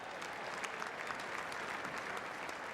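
Audience applause at a state high school basketball championship ceremony, a steady wash of clapping from a crowd that holds for the whole stretch without a break.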